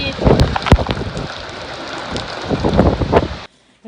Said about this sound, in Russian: Сильнейший ветер.